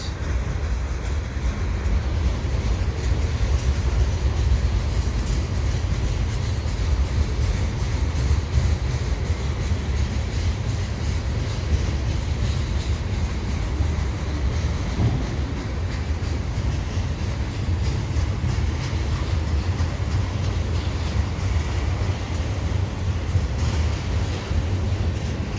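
CN and CP freight trains passing at Dorval, a continuous heavy rail rumble with a steady low roar and faint wheel clatter, close and unbroken for the full length.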